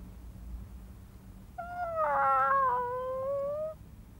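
A cartoon cat gives a single drawn-out, wavering meow lasting about two seconds, fairly close and clear, following a quiet stretch of low background noise.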